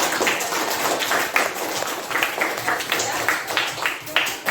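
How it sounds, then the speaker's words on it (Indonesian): Students in a classroom lesson applaud together, a steady, dense run of clapping lasting several seconds, heard alongside talking. "kita tepuk tangan dulu dong"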